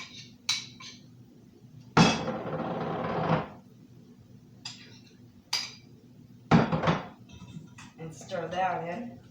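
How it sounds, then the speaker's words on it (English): Breadcrumbs are stirred with beaten egg in a bowl for a baked cream corn dish, giving two close scraping, clinking bursts of a few seconds each, with a voice briefly heard near the end. "And you stir it with the egg that I have beaten."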